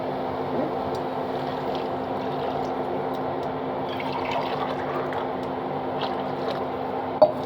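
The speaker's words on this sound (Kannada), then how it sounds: "ಇದಕ್ಕೆ ನಾನು ಇವಾಗ 2 ಗ್ಲಾಸ್ ನೀರು ಹಾಕ್ತೀನಿ." Two glasses of water are poured into a pressure cooker holding spices and salt for Maggi noodles, a steady even rush of liquid under a low hum, with a small clink near the end.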